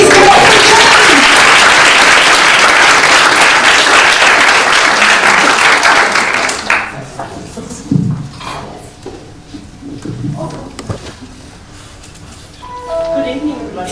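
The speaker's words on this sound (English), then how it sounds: "Please give it up for Jenny!" An audience at a Perth talk on recycling and sustainable waste management breaks into loud, dense applause that stops abruptly, followed by scattered crowd noise, shuffling and a faint voice.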